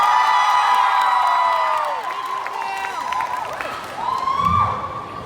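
Crowd at a drag show event at SM City Cebu cheers, whoops and shouts for a contestant couple, loud and continuous at first, then easing with voices mixed in.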